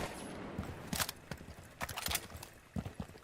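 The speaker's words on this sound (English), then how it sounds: "I have sprayed down a few bullets on the wall without controlling the recoil" SMG-11 gunfire in Rainbow Six Siege's T-Hunt mode, a burst sprayed at a wall with the recoil left uncontrolled, heard as a few short, sharp, uneven clusters of shots at moderate loudness with no voices.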